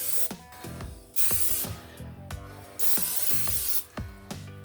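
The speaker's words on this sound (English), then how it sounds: "Prepare a loaf pan by spraying," Several short hissing bursts of cooking spray from an aerosol can onto a loaf pan, alternating with clicks and clatter from handling the can and pan nearby.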